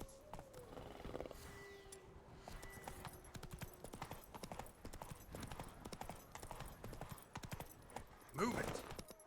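Roach, a horse in The Witcher 3 game, clip-clops at a steady walking rhythm with a brief whinny near the end; a voice speaks over the hoofbeats.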